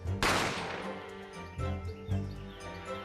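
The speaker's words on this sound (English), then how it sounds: "a gunshot rang in my ears." A single sharp gunshot cracks out in the video game The Great Ace Attorney Chronicles and rings into a decaying tail, followed by softer low thuds and a faint musical bed, with no speech.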